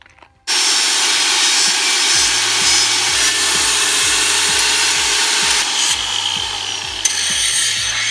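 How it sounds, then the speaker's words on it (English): A power grinder works over a metal volleyball net pole, smoothing rough plasma-cut edges with a loud, continuous abrasive roar that starts abruptly and holds steady, with a faint rhythmic low thumping underneath and no voices. "So here we're just gonna grind off the rest of it and make it smooth."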